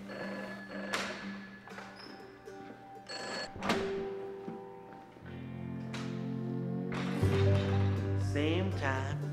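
A telephone bell rings repeatedly through a nighttime scene, its regular bursts ringing out clearly under a tonal music score and other background sounds.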